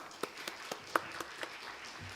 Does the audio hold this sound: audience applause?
yes